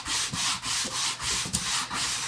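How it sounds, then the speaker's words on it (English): Hand sanding on a model aircraft's horizontal stabilizer during a PT-20 build, a steady close scratchy rubbing in repeated back-and-forth strokes, about seven even passes with short pauses between them, no talking. "Now look, as we're sanding here"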